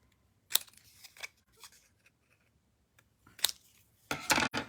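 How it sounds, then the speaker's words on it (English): Scissors trim cardstock in a series of short, sharp snips, a few scattered cuts and then a quick cluster near the end, close by in an otherwise quiet room. "I do need my scissors to trim this"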